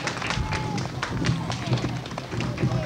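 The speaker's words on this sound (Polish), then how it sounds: "Duże brawa! Ogromne brawa!" Outdoor crowd at a 1996 witches' festival award ceremony in Trzebnica clapping for the winners, a steady mass of applause with crowd murmur and voices beneath it, fairly loud.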